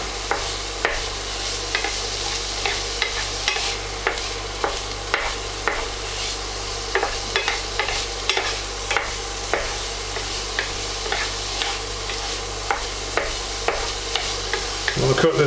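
Chilli beef mince fries in a pan with a constant close sizzle. A spoon stirs it repeatedly, giving frequent scraping and clacking strokes throughout.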